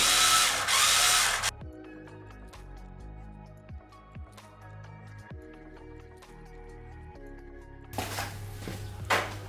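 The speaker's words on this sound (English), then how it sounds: "do not judge me for my tiny drill" A small spare power drill in a woodworking workshop gives two loud whirring bursts, one at the start and one at the end, with quiet mechanical clicks and taps in between.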